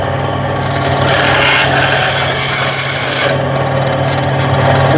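A bandsaw cuts through a knife handle, a loud, close, continuous whining rasp of blade on material that stays steady for the whole stretch, with a harsher high edge during the middle of the cut.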